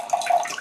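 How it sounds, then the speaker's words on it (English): A brief gurgling trickle of ammonia poured into a bottle on a table, a short close liquid splash and glug lasting under a second. "I am pouring it in"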